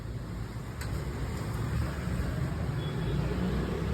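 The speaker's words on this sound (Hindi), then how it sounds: "जब गाड़ी स्टार्ट होने का कैसी आवाज़ आती देखो" A repaired Bajaj Pulsar 200NS motorcycle engine runs on test in a workshop, a steady, even idle hum that holds at a moderate level for the whole stretch.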